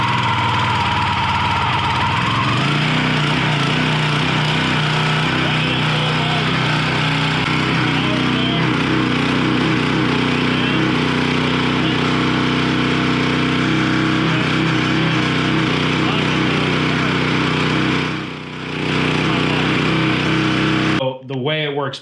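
The small gasoline engine of a tree-work machine, on choke at full throttle, cranks and catches, then runs as a loud, steady, rough mechanical drone that holds for about twenty seconds before briefly dipping near the end.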